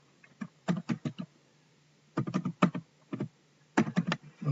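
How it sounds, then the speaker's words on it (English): Three quick bursts of typing on a computer keyboard, close and crisp clicking keys separated by short pauses, entering a title on a webpage. "So I'm just going to type that in,"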